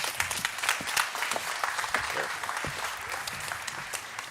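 Seminar audience in a conference hall applauds a European Parliament member coming on stage, a steady wash of many hands clapping at moderate distance, even and continuous.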